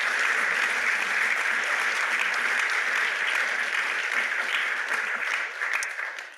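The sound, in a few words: audience applause for journalism fellows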